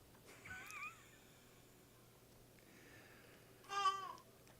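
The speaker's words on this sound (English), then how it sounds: "I'm fostering 3-week-old kittens right now." Three-week-old kittens meowing: two thin, high mews a few seconds apart, faint and close, over a quiet background hum.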